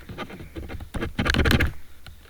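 Computer keyboard keys being pressed in a casual gaming session, a quick irregular burst of close clacking taps with no voice.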